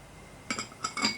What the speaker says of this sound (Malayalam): അപ്പോൾ അതും കൂടെ ചേർത്ത് നന്നായിട്ടൊന്ന് മിക്സ് ചെയ്ത് കൊടുക്കാം.